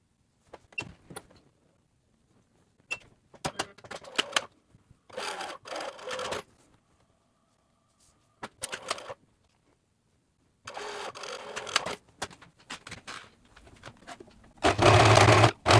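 A domestic sewing machine stitches a sleeve seam on a summer twist-front top in several loud bursts of rapid whirring, separated by pauses, with the longest and loudest run at the end.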